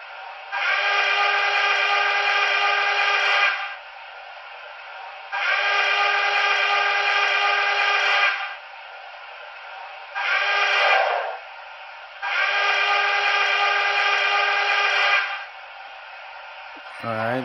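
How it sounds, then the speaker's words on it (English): A Broadway Limited model of a Norfolk & Western Y6b 2-8-8-2 steam locomotive sounds its grade crossing whistle: a loud chorded whistle in the long, long, short, long pattern, with a quieter hiss in the gaps. "Now F13 is the gray crossing whistle."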